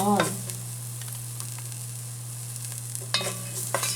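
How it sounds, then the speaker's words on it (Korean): Garlic fries in a spoonful of sesame oil, a soft steady sizzle with a low hum beneath and a few scraping stirs near the start and end. "참기름 한 스푼을 넣고 마늘을 넣은 다음 마늘향이 올라올 수 있게 되면"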